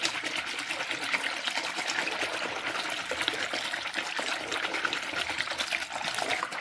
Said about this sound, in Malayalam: ഇനി നമുക്കിത് നന്നായിട്ടൊന്ന് പതപ്പിക്കാം